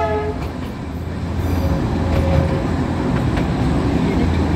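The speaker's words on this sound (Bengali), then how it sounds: "এই আমাদের টয় ট্রেন এখন ঘুমে ঢুকছে" The Darjeeling toy train rumbles steadily into Ghum station, its wheels and carriages producing a loud, continuous rolling noise with a brief horn-like tone early on, heard up close from aboard.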